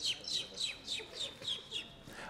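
A children's parish choir imitates a bird, repeating high chirping calls about seven times in a steady rhythm, close and clear.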